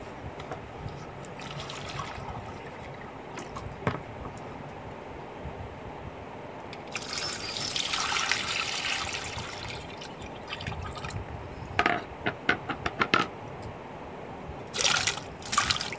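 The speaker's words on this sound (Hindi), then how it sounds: "और इसके अंदर पानी ऐड कर दिया।" Water poured into a pot holding beef trotters for paya, a steady trickling and splashing with louder gushes and drips near the end, close and fairly quiet, with no talk.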